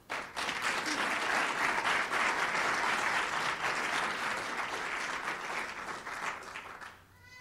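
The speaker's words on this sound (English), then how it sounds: "you can continue clapping as we now call to the podium our Senate President" Loud, sustained applause with scattered cheers from an audience at a Massachusetts education event as the Senate President is called to the podium, filling nearly the whole stretch before fading at the end.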